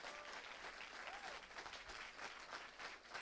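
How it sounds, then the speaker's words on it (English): Audience applause at a talk by a quadriplegic gold medalist, a brief, steady burst of many hands clapping at moderate, even loudness for a few seconds. "if you are going to take a few seconds to applaud"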